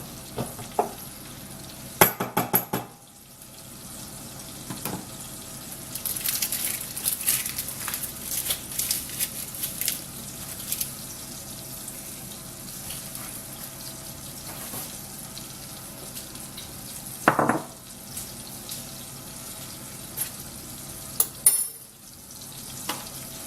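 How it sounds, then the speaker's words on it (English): Butter and candies melt slowly in a pan over the lowest heat, giving a soft, steady sizzle broken by louder bursts of stirring and scraping, with no voices. "the lowest heat stops your butter from burning too quickly and is plenty of heat for the candies to start melting"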